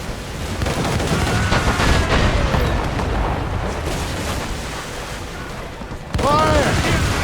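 Ship cannons thundering during a naval battle in Assassin's Creed Rogue, a continuous dense barrage of loud booms and crackling blasts with whistling projectiles, a fresh loud volley bursting in near the end.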